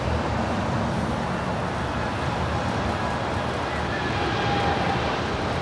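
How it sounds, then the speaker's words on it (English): Air Canada Boeing 787-9 Dreamliner departing LAX for Toronto, a broad steady jet rumble at moderate distance mixed with background traffic noise. "It's a 787-9 Dreamliner."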